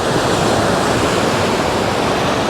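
Ocean surf washes continuously onto a beach on Puerto Rico's west coast, a loud, dense, unbroken roar of waves mixed with wind noise and no voices.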